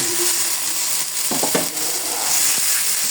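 Onions fry in a pan for a chepa shutki (dried fish) bharta, giving a steady close sizzle with a couple of brief stirring scrapes and clinks of a utensil.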